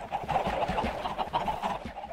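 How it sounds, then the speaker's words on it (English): Minecraft chickens cluck in a quick, steady run of short calls, close and fairly clear against a soft game background, with no talking. "There were some chickens running around."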